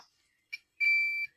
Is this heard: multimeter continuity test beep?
yes